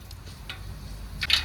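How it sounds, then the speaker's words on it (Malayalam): A few sharp little pops and crackles from mustard seeds in hot oil, faint at first, then a brighter burst near the end over a low steady hiss. "കടുക് പൊട്ടിയിട്ടുണ്ട്"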